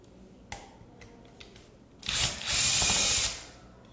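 A power drill-driver backs out the three gear flange screws on a Bosch GKS 140 circular saw under repair, giving a short whir followed by a louder, sustained buzzing burst, close by, with faint tool clicks beforehand.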